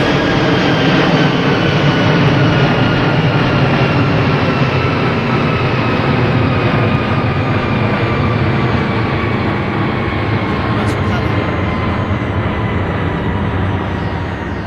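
Airplanes pass one after another as a loud, continuous low engine roar with a slowly shifting drone, steady and heavy throughout.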